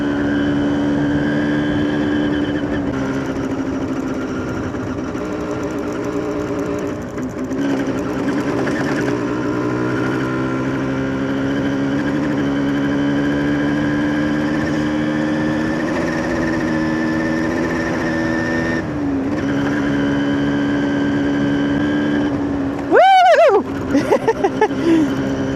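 A 1993 Yamaha DT175 Enduro motorcycle engine runs at a steady idle, close and loud, with a brief rev rising and falling near the end; no talking.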